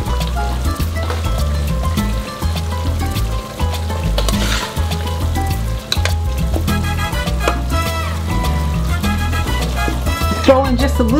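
Tilapia sizzles and fries loudly in a pan of coconut curry milk, with continuous crackling and bubbling, occasional stirring and clatter close by.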